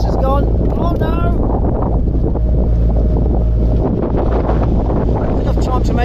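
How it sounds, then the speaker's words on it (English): Strong wind roars and buffets the microphone continuously aboard a narrowboat on the tidal Thames, loud and close, with a voice briefly heard under the gusts. "it's so windy, it's extremely windy"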